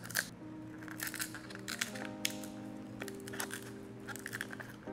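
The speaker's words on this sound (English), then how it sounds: "I usually take a knife, a butter knife, and start like this." A butter knife pries and scrapes the shell off a coconut, giving repeated crunchy cracking and scraping sounds, close and fairly faint, with a musical tone lingering in the background.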